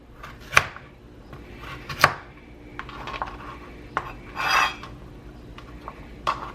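A knife slices vegetables lengthwise on a cutting board while fried rice is prepared: a few sharp, close cuts knock against the board at uneven intervals over a quiet background, with no voices.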